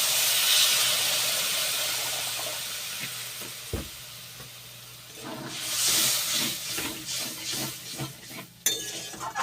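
Water poured into hot fried spices for a fish gravy, a loud rushing sizzle and steam hiss at first that fades, followed by close stirring scrapes and clinks in the pan.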